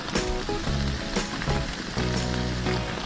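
Onions sizzle on a grill beside beer brats, a loud, close crackling hiss that holds steady with occasional scraping as they are moved.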